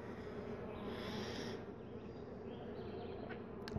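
A swarm of bees drones continuously at close range around someone holding a banana outdoors, with a dense, wavering buzz and occasional louder passes near the end.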